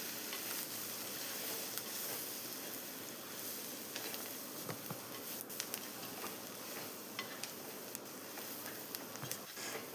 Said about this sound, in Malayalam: അപ്പോൾ ഇതുപോലെ തന്നെ നന്നായിട്ട് വഴറ്റി കൊടുക്കാം